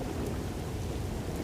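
Heavy cold-weather rain pours down steadily in a continuous dense hiss, with low rumbling beneath suggesting distant thunder, no voices present.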